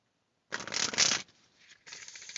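Tarot cards riffle and shuffle in a close, quiet room, a dense burst of papery flutter followed by a softer pause and a second, lighter run of card shuffling, with no talking.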